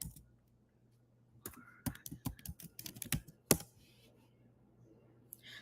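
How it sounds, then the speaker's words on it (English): Fingers type on a computer keyboard in quick, uneven bursts of close clicks and taps. The typing sits in the middle of the clip, with quiet pauses before and after. "I'm just going to type in verification"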